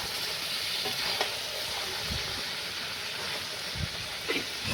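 Potatoes and meat stir-fry in a pan with a soft continuous hiss, with occasional light knocks and scrapes from stirring and no speech.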